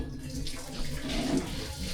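Water pouring off boiled pasta being drained, a steady close rush of running water over about two seconds.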